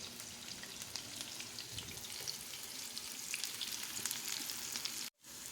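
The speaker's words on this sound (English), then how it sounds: "we are just going to slowly saute these onions on a low to medium heat until they are nicely browned" Onions sauté in a pan over low to medium heat for a creamy vegetable soup, a soft continuous sizzle and crackle close by that cuts out abruptly near the end.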